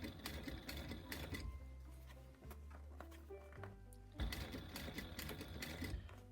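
A sewing machine stitches a fabric gusset in steady running bursts, loud and close, pausing briefly in the middle before starting up again with no talk over it.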